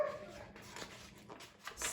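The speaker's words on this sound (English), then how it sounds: "My dog Mulligan wants to come in, but I'm not going to let him." A pet dog whimpering outside to be let in, soft high whines and small yips coming in uneven bursts, close and fairly faint.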